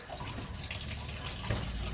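Water runs steadily from a bathroom tap in an RV that is being de-winterized. The hissing, splashing flow is close and continuous, and a faint knock sounds partway through.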